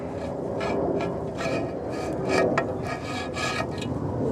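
Smallest Allen wrench dragged around the grooves of a Nissan engine cover to scrape out old silicone, giving a steady close rasping rub with short scratchy bursts throughout, alone without talk.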